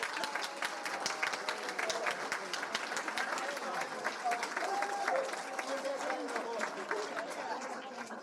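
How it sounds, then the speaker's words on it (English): Audience at the Elgin Image Awards 2023 ceremony applauds steadily, with dense, sustained clapping throughout and a few voices calling out over it. "So I want a big round of applause for Mr."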